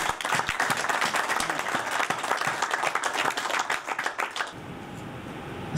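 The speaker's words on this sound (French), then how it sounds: "qu'on applaudit très fort" An audience at a literary reading event claps warmly and loudly for an invited reader. The dense, crackling applause lasts several seconds before stopping abruptly into a quiet room.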